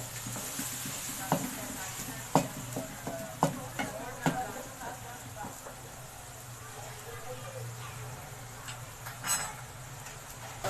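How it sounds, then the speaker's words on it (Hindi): Food frying quietly in a pan under a soft continuous sizzle, with a spoon stirring and knocking against the metal every second or so, and faint background sounds. "अब भी 5 मिनट इसको और भूनेंगे"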